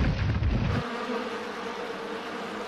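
Drone bees buzzing in an animated cartoon: a loud, close swarm drone that cuts off sharply, leaving a fainter, steady hum behind it.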